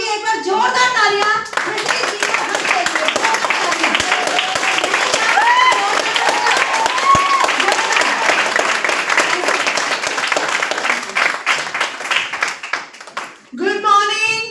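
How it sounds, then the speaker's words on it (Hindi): Loud, enthusiastic audience clapping at an International Men's Day gathering in Lajpat Nagar, a thick continuous roar of hands lasting over ten seconds, with voices speaking briefly at the start and end. "मैं चाहूंगी एक बार जोरदार तालियां।"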